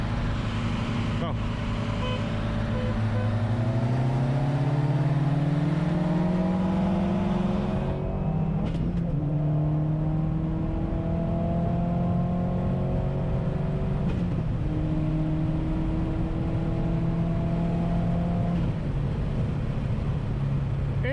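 A tuned 2016 Subaru WRX Stage 2+ racing a tuned first-generation Mazdaspeed 3, engines droning and rising through repeated upshifts from inside a car, with people talking over the engine noise.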